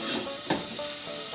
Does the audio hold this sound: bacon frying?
yes